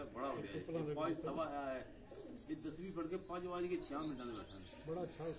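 Pigeons coo and birds chirp at a fancier's loft, soft calls running beneath steady conversation between men throughout.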